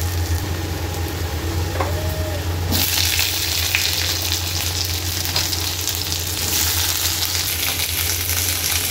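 Cabbage and capsicum with garlic sizzle and fry steadily in hot oil in a pan, a continuous close crackle that grows louder partway through as more vegetables go in, with no talking.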